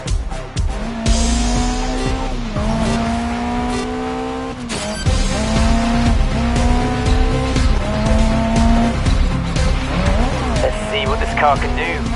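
Race car in the Grid racing video game driving laps, engine note rising and falling through gear changes with repeated tire squeals and skids, loud and continuous alongside game audio.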